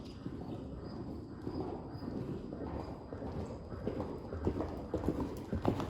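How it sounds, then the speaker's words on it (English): A horse canters during a riding session, its hooves beating a steady three-beat clip-clop on soft ground, moderately close against low background noise, with no talk over it. "That is a pretty nice canter, isn't it?"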